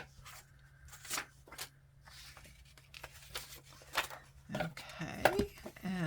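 Scissors cut through junk mail envelope paper in a few quick, crisp snips and rustles, close and quiet, with soft handling noises in between.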